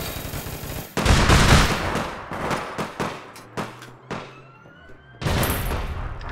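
Gunfire in the game APB Reloaded, with loud bursts of automatic shots, several sharp single shots spaced apart, and a siren wailing in the background.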